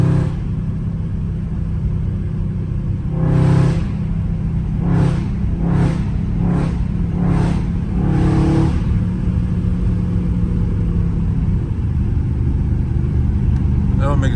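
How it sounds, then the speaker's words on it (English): A Dodge Charger Scat Pack engine with stock exhaust revs repeatedly in short, loud bursts over a steady deep rumble, close by with a throaty exhaust note. "Best sounding scat for sure. Stock exhaust."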